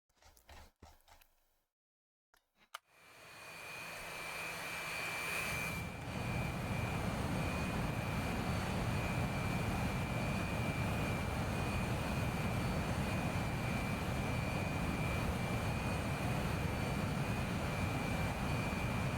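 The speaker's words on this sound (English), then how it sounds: "Shall we watch BK for this first takeoff?" Jet aircraft engines spool up for takeoff after a few seconds of near silence with faint clicks, then settle into a loud, sustained broad roar with a steady whine on top that carries to the end.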